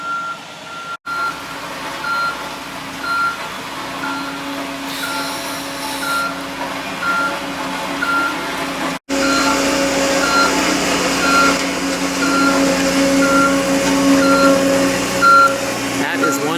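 A delivery truck unloading a big roller for driveway preparation gives off repeated reversing beeps over a steady engine rumble, with a brief cutoff partway through. The beeping is moderately loud and may carry some faint voices.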